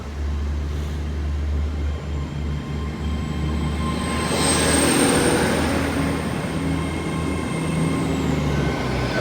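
A train at Exeter St David's station on a Sunday afternoon, its engine droning loud and steady with a rising whine as it passes close by, no voices.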